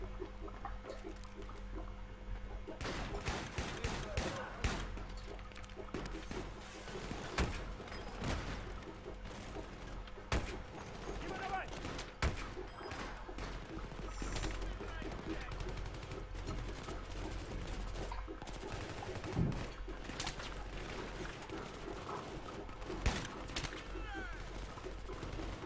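Gunfire from Battlefield 3's Kaffarov mission cracks out in scattered shots and bursts, some close and sharp, others distant, over steady background noise, with someone speaking German at times.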